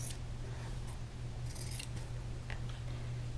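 Scissors snip at the corner of a fabric fat quarter bag in a few quick, faint cuts over a low steady hum in a quiet room.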